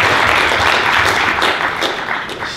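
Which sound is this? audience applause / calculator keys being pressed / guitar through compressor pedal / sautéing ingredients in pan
audience applause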